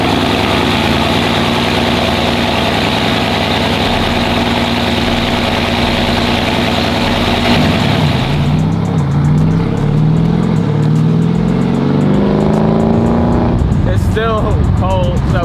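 A Mercedes-AMG car engine idles steadily, then rises and falls through several revs with a deep, loud, continuous rumble, with a short sharp burst near the end.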